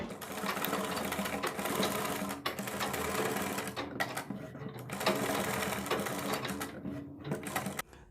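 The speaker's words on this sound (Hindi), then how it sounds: "अब हम बुकरम के बराबर बराबर सिलाई लगाएंगे।" A sewing machine stitches along buckram on a kurti neckline, its steady motor rattle running loud and continuous with brief pauses between runs.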